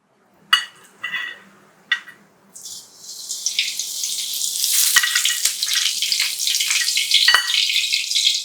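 Whole cumin, fennel, kalpasi and cardamom hit hot oil for an egg kuzhambu, first a few sharp crackles and pops, then a steady loud sizzle and spatter that carries on alone to the end.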